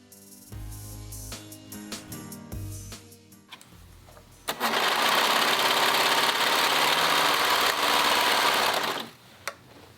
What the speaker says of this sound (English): then you're gonna go to your sewing machine and finish up sewing that inch.